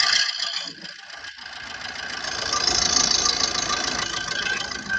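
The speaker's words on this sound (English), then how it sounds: "our car has started" A Maruti Suzuki Swift Dzire diesel engine idles steadily after a brief starting rattle, following a fuel pressure fault, a low rough hum with a knocking edge, close by and continuous.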